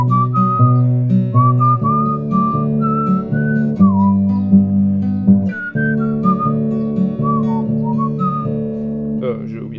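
Whistled melody of a song, bright and sustained, carried over a steady strummed accompaniment that runs underneath throughout.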